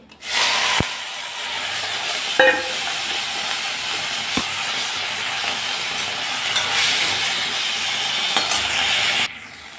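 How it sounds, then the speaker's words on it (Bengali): Shrimp frying in a pan, a steady loud sizzle and hiss running throughout, punctuated by a few sharp clinks of a utensil stirring, cutting off abruptly at the end. "চিংড়িগুলো আমি ভেজে নিচ্ছি।"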